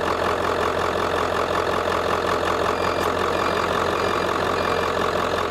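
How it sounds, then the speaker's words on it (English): A heat gun set to low runs from a 12V pure sine wave 2000W inverter, giving a steady, loud broadband whir and hum with a constant low drone that holds unchanged throughout. "I'm gonna put the heat gun on low."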